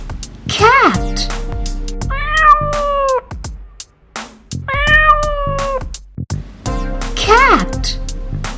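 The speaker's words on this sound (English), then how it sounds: "Cat." A cat meows twice, each meow drawn-out and clear, between short sung words in a children's song with a musical backing.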